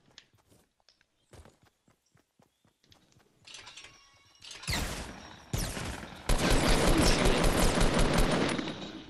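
Gunfire in the Fortnite video game, starting as scattered sharp shots and footstep-like clicks, then building into loud, dense bursts of rapid automatic fire that fill the last several seconds.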